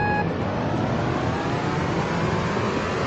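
Kart engines drone and rev as a race starts in the video game Meta Kart Racers, a loud, steady motor roar that holds without a break.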